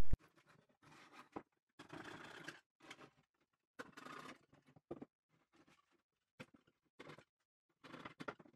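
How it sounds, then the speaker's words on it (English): A small hand saw cuts through the tabs holding an electric violin body blank, making short, close rasping strokes in uneven bursts separated by quiet pauses. "take a little saw and cut those tabs so that I can liberate each half"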